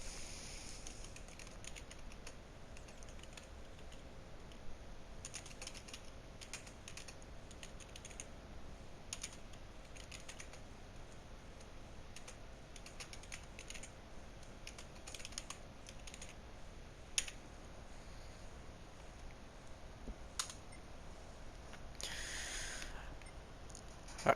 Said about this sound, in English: So let's go in to do some typing